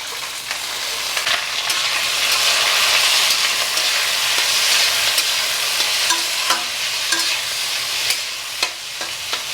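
Onions fry and are stirred in a pan for atukula upma (flattened rice upma), a loud, steady close-up sizzle with scraping stir strokes and occasional sharp clinks of the spoon.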